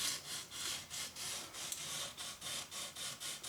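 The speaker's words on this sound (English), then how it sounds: "just let the sandpaper do the work" Sandpaper sanding varnish off a wooden Marlin Model 60 .22LR rifle stock, in steady back-and-forth strokes, a dozen or so rhythmic light scratchy passes, close and alone.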